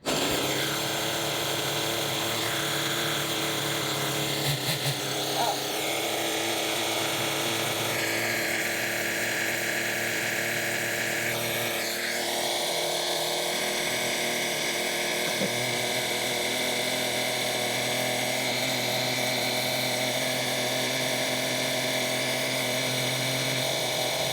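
A HPI RS4 mini nitro RC car's small nitro engine runs steadily, a high, buzzing whine with shifting pitch that holds loud and continuous throughout.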